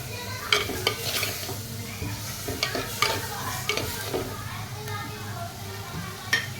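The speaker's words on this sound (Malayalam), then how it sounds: "നന്നായി ഒന്ന് മിക്സ് ചെയ്ത് കൊടുക്കാം കേട്ടോ" Chili powder is stirred into a fish curry masala in a pan, with repeated scraping strokes over a soft steady sizzle, close and moderately loud.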